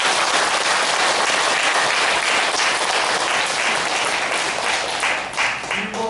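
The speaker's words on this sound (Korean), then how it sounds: "힘찬 박수를 주시기 바랍니다." Congregation at a Korean Buddhist temple gathering claps vigorously for donors, a loud, dense, continuous applause that holds for several seconds before tapering slightly at the end.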